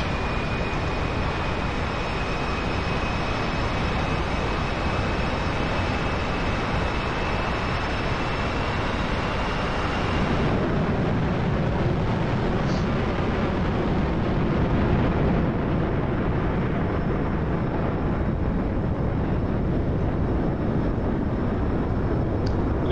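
Twin jet engines spool up in the DCS flight simulator on a Georgia map campaign: a steady, loud roar with high whining tones that shift and settle about halfway through, with no talking.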